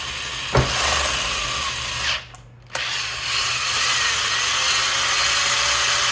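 A power drill whines steadily at close range, briefly cutting out and restarting midway, then grinding on continuously through the wooden body of a Vox SDC-1 guitar.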